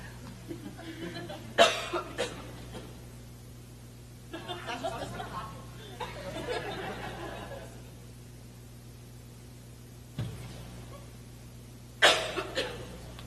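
Several short, sharp coughs at a school band concert, spaced apart with quiet stretches between, over a low steady hum, plus some faint breathy sounds.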